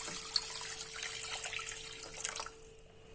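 Water runs steadily from a tap, splashing and pouring into a cooking pot on high heat for a few seconds before tapering off.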